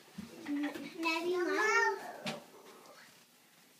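A cat gives a drawn-out, rising and falling meow in a home, fairly close, with a voice and other indoor voices around it.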